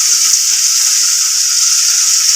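Onion, garlic and tomato sautéing in hot oil in a pan for a kaara kuzhambu, giving a steady, even sizzle with no pauses, close and fairly loud.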